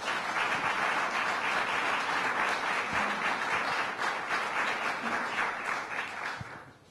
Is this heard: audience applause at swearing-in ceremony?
yes